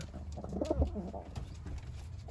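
Soft, low pigeon cooing, a few throaty rolling calls close by against a quiet background hum.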